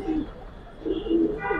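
A Giribaz pigeon in a loft gives a few soft, low coos, one early and a longer pair later, close by over faint room noise.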